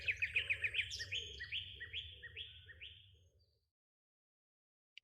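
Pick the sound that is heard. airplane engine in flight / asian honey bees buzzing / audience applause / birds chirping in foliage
birds chirping in foliage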